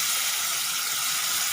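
Tomato paste frying in masala for a snakehead fish kalia, a brief steady hissing sizzle heard close and alone.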